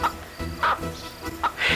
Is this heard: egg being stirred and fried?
no